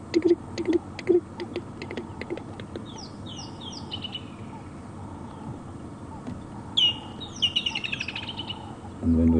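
Bird calls outdoors on an evening safari: a rattling cisticola's dry rattling call early on, then a kingfisher's bursts of descending, trilling calls, with softer chirps and a faint background of other birds.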